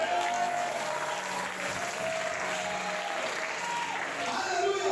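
A church congregation applauds continuously, a dense, steady wash of clapping close by with no break, under faint voices.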